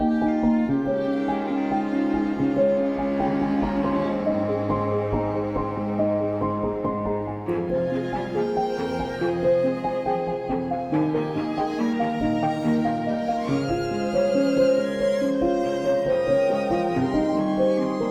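A dramatic film score cue in a hybrid production plays steadily with a sustained cello line and piano chords. It is full and continuous, with layered tones and no speech.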